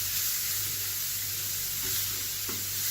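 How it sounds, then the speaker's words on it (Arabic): Onions sautéing in a pan give a steady, close frying sizzle with a couple of faint stirring scrapes, no voices. "انا بحب اشوح البصل شويه"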